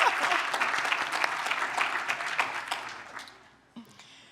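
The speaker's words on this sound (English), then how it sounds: "They do deserve an applause for this dancing chairs exercise." Applause from an audience at an urban summit joint session, a dense wash of many hands clapping steadily for about three seconds before thinning out and fading, with a final scattered clap near the end.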